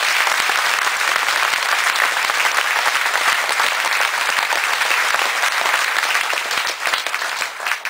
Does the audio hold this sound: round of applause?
yes